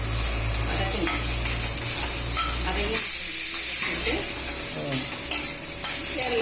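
Onion, garlic, green chilli, tamarind and fresh coriander sauté in a pan for an okra thuvaiyal, giving a steady close sizzle with scraping stirs that briefly ease off midway.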